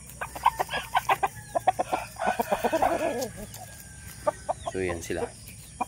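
Dong Tao and Shamo cross chickens cluck in quick, repeated bursts close by, with a few longer squawks, while a person talks briefly over them.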